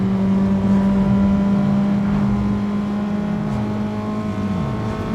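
A Mitsubishi Evo's engine drones and revs steadily in a racing video game played on a sim racing wheel, a loud continuous tone with small pitch shifts as it climbs through gears.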